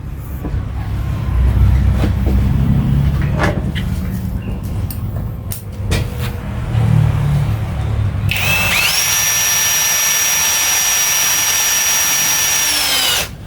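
A Kevox 21V cordless drill running at speed 1 drives a screw, a loud close whine rising and then holding steady for several seconds after some handling and knocking noises.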